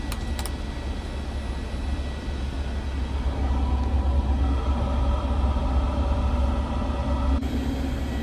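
Airbus A350 hydraulic system being pressurized to 5000 psi, a steady low mechanical rumble and whine that swells slightly in the middle and then cuts off abruptly near the end, with no talking.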